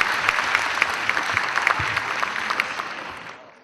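An audience at an international conference in Pakistan applauds an honorary shield presentation to Malala Yousafzai, with sustained dense clapping that fades toward the end.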